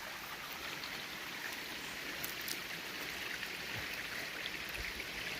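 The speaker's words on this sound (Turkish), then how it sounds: "Bakın her yerden su çıkıyor burada." Water from springs flows and trickles through a rocky valley near a village, a steady, continuous rushing wash with fine splashing detail and no pauses, filling the space evenly at close range.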